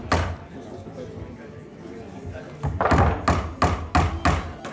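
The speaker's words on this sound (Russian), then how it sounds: "Необходимо забить гвоздь брусок, да так, чтобы ровно было и жюри понравилось." A nail is hammered into a wooden block in a contest for young men, heard as a run of sharp, loud, evenly spaced blows in the second half, preceded by softer knocks, with speech underneath.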